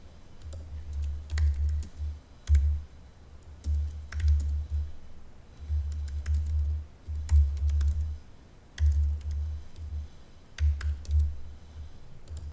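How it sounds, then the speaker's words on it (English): Computer keyboard typing in short bursts of clicky keystrokes with brief pauses between, close and fairly quiet, no voices present. "So I've typed in my question"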